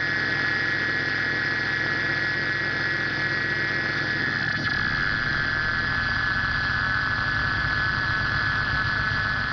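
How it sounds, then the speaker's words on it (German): Continuous white noise played to a blindfolded prisoner under sensory deprivation: a loud, unbroken hiss with a steady tonal hum, filling the whole stretch with no pauses and no voices. "Für ihn ist nur weißes Rauschen zu hören."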